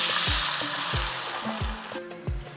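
Water goes into a pan of frying spiced rice with roasted masala, a bright hiss of sizzling that is strongest at first and gradually settles, with soft regular low thuds beneath it and no talking.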